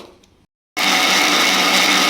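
Kitchen mixer grinder churning coriander powder and chili powder with water into a smooth paste, a loud steady whirring motor that starts abruptly after a short silence and runs continuously, close up.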